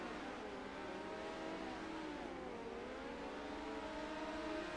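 Midget race cars roar around a dirt track in a continuous, fairly distant droning wail, their engine pitches rising and falling as several cars circle, with no talk over it.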